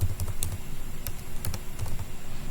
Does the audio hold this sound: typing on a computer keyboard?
yes